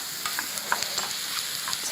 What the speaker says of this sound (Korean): 우선 프라이팬이나 냄비에다가 바지락살 손질한 것을 넣어주게 되죠.